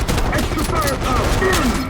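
Gunfire in the video game Call of Duty Black Ops 6: a loud burst of rapid shots with voices calling out over the shooting.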